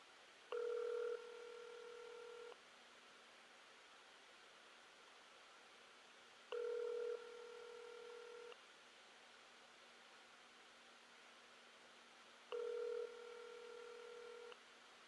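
An unanswered phone call rings back through a handset, three evenly spaced ring tones about six seconds apart, faint and tinny over quiet line hiss, with no one speaking.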